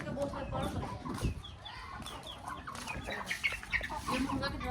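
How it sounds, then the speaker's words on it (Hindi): A rooster clucks in short, repeated calls at a moderate distance, set against a busy outdoor background with other birds and general noise. "ये मुर्गा कितना प्यारा है"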